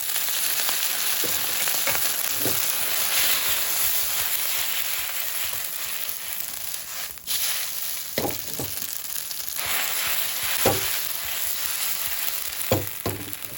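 Steady loud sizzling of food frying in a wok, with occasional scraping clanks of a utensil stirring against the pan.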